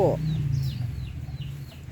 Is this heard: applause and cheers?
no